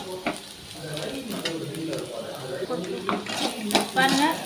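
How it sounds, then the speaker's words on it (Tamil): Garlic cloves sautéing in oil in a pan for Tamil-style garlic pickle, a steady soft sizzle with scraping stirs and occasional utensil clinks, close by, with a voice speaking over it at times. "இன்னும் கொஞ்சம் நேரம் ஒரு 5 நிமிஷம் வதக்கணும்"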